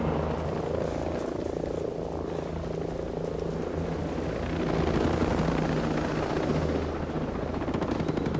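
Helicopter air support in a nighttime Ghost Recon mission with the Spartan mod, a steady loud rotor drone and engine rumble that swells midway, with dense jungle-like ambience and no talk.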